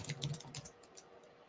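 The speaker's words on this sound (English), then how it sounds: "the keyboard must be a little laggy too. I just got two U's in YouTube." Quick bursts of typing on a laggy computer keyboard, close and crisp keystrokes clustered at the start, then thinning into sparse taps.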